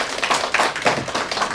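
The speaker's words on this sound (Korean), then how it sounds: "다시 한번 축하의 박수 해주세요." A congregation at a church service claps in congratulation, a dense, steady burst of many hands close by that lasts the whole brief moment with no voices over it.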